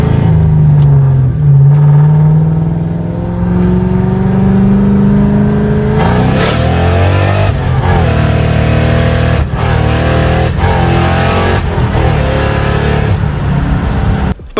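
A 1999–2004 Ford Mustang GT with a slipping clutch drives loudly and up close, its engine droning and rising in pitch steadily, then flaring and dropping through several abrupt shifts in the second half.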